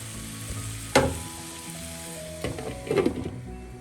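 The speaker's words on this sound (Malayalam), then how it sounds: "ലോ ഫ്ലെയിമാക്കി ഇതൊന്ന് അടച്ചു വെച്ച് വഴറ്റാം." Shrimp and shallots sautéing in a covered pan over a low flame, giving a soft steady sizzle with a couple of louder clattering bumps, close and without voices.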